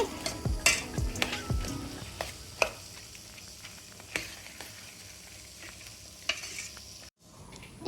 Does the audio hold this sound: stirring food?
yes